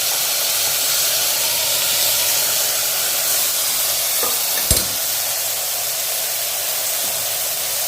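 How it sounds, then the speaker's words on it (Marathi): Indrayani rice is dry-roasted with spices in a pan for khichadi, giving a loud steady sizzling hiss throughout with one brief knock of the spoon midway and no voices. "एकच मिनिट राईस भाजून घ्यायचं।"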